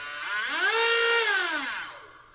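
A corded rotary tool with a variable-speed motor driving a flexible shaft whines steadily, its pitch rising, holding, then falling as it spins down, loud and close with no talk.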